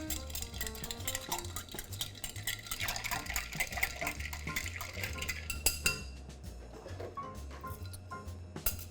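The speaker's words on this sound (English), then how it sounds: "Again, with the density of ice, stirring about 40-45 times." Ice being stirred in stemware for a Man O' War cocktail, a steady run of glassy clinks and swirling ice, close and fairly quiet, with a low musical bed beneath and no talk.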